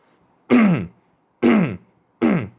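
Someone clears their throat from the belly three times, in sharp, separate rasping bursts close to the microphone, with quiet pauses between them and no speech.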